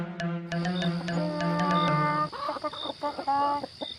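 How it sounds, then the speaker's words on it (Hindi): A flock of hens clucks together in a busy, overlapping chorus, close and fairly loud, with no talking. "अचानक सारी मुर्गियां एक साथ कुड़ू कुड़ू करने लगीं"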